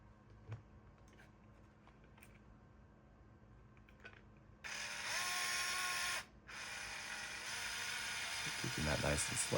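A driver slowly runs screws into plastic at about one turn per second, giving a steady buzzing whir that stops briefly and then resumes, after a few faint clicks and handling noises.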